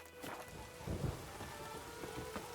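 Steady rain falling in The Witcher 3, a soft continuous hiss with a faint low rumble near the middle, quiet and without voices.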